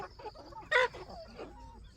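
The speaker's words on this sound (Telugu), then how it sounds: "చూసుకోండి పది పుంజు పిల్లలు ఒక మూడో నాలుగో పెట్టలు ఉన్నాయి" Three-to-four-month-old heavy-breed young roosters give a few soft clucks and one louder squawk, close by and scattered over a couple of seconds.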